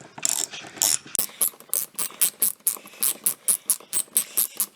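A hand ratchet fitted with a triple hex socket works interior panel bolts on a 2006 Porsche Cayenne, giving close, crisp clicking bursts in a steady back-and-forth rhythm with brief pauses between strokes, no voices.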